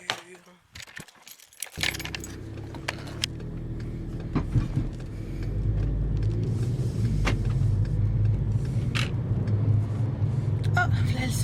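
A car is entered and driven away: keys jangle and door and seat handling sounds come first, then a steady low engine and road rumble builds and continues, close inside the cabin, with occasional clicks.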